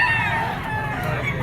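A Kelso bloodline gamecock stag crows once, loud and close, a strained drawn-out call filling the short moment at a gamefowl market in Padre Garcia, Batangas.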